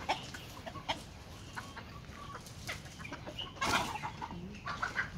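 Chickens clucking on a farm, several birds calling in irregular bursts at moderate distance with no talking.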